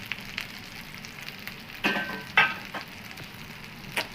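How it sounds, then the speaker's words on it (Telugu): Okra dry-frying in a pan, a steady soft sizzle with a few brief louder crackles and scrapes from stirring. "ఇలా అయితే బాగా ఫ్రై చేయాలండి"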